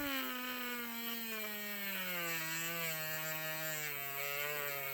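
A homemade cordless Dremel sands wood with a close, continuous motor whine whose pitch slowly sags as the tool loads up against the workpiece, heard alone.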